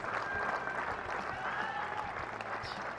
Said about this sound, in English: Warmly appreciated by his teammates, by the crowd that's come to watch this game.